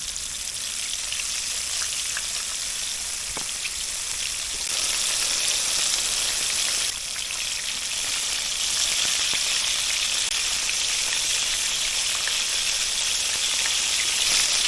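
Walleye pieces fry in a cast iron pan over medium-high heat, giving a steady, dense sizzle and crackle that runs loud and unbroken throughout, with no voices.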